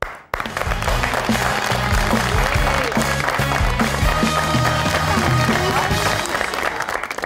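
Studio audience applauding as a guest singer is welcomed onto a TV talk show, a loud, continuous stretch of clapping over a musical backing that starts after a brief gap and runs throughout.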